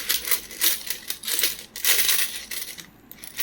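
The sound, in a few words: uncirculated 5 rupee coins dropping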